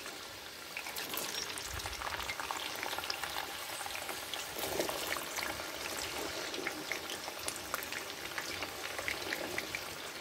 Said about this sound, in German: Als allererstes werden wir erstmal ein bisschen die Kartoffeln frittieren.